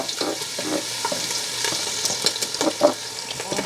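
Sliced onions frying in hot oil in a pot for kaleji masala, a steady close crackling sizzle with bursts of stirring and popping.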